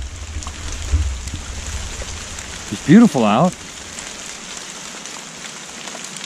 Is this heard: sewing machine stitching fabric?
no